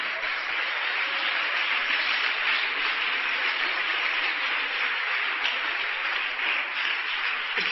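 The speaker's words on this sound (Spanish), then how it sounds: "¿Cuántos aplauden al Señor?" Steady applause from a church congregation during a Spanish-language sermon, a dense continuous clapping wash that stays loud and even throughout with no one speaking over it.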